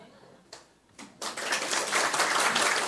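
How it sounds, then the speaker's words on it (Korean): A church congregation at a preaching contest begins with a few scattered claps and then breaks into full, sustained applause that fills the room after a testimony. "큰 박수 부탁드립니다"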